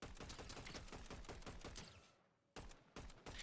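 Rapid gunfire bursts in Fortnite: a dense string of loud, fast, sharp shots for about two seconds, a brief fading lull, then a few more quick shots to close.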